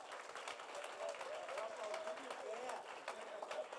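A church congregation applauds during a worship service, a scattered patter of clapping running steadily beneath a voice speaking over it.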